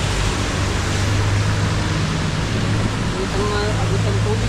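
Floodwater rushes loudly and continuously at Molino Dam during Typhoon Kristine, a dense steady roar that fills the whole stretch, with a faint voice partly underneath.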